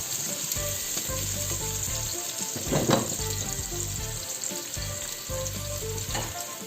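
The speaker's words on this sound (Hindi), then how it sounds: "दोनों चीज़ें डाल देनी है, ऑनियन और लहसुन। अब इसको थोड़ा सा गोल्डन होने दें" Onion and garlic fry steadily in hot oil, a continuous close sizzle with a brief louder spatter midway and faint stirring underneath.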